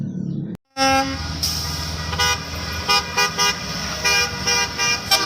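Toy school bus sounding repeated short electronic honks, a bright beeping horn pattern broken into several quick bursts over a faint background hum, close and loud with no talk.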